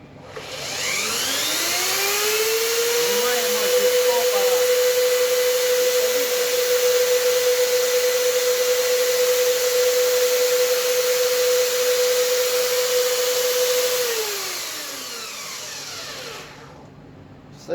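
Once switched on, a workshop band saw winds up to a steady, loud whine that holds level for about ten seconds before spinning down as it shuts off.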